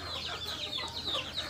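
Chickens squabble in a short, busy burst of clucks and sharp squawks, close by and fairly quiet, with no talking.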